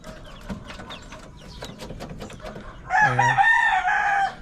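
Chickens cluck softly in the background of a chicken coop, then a rooster crows loudly and close, a long drawn-out call closing the clip.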